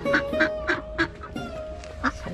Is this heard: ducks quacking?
yes